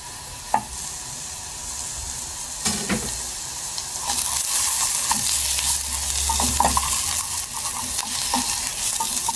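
Onion and garlic frying in a pan, with onion browned first and garlic added, give a steady sizzle that swells midway, broken by a few sharp clacks of a utensil against the pan.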